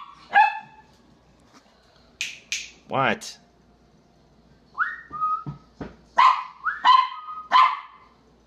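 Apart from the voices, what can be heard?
dog barking on command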